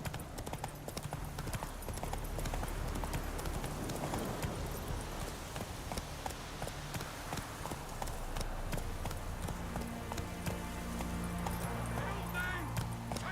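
A horse in a video game gallops with rapid, steady clip-clop hoofbeats that continue throughout, set against game music and ambience while someone talks over it.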